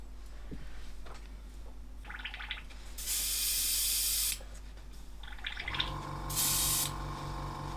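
An airbrush sprays grey lacquer paint thinned with about 20% lacquer thinner, giving several steady hissing bursts of a second or so each, near and fairly loud, with a low hum and small handling noises between them.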